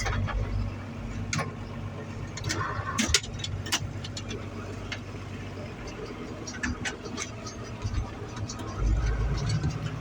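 Old John Deere 4240 tractor engine running steadily while pulling a Vermeer 605K round baler through hay, a continuous low mechanical drone with clanks and rattles and a louder surge near the end.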